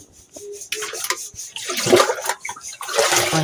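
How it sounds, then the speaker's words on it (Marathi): Water scooped from a pond and poured into a container, a few loose splashing pours that grow louder toward the end, with no talk. "तिथून पाणी घ्यायचं, याच्यात टाकायचं, याच्यात पाणी घ्यायचं,"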